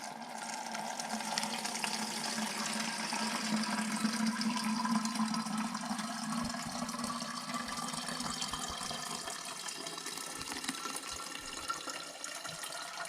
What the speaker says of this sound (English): And then slowly try to pour it through without making a mess.